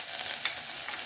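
An onion piece sizzling in hot oil in a pan while cooking green bean curry, giving a steady, close crackling hiss with small pops and no voices over it.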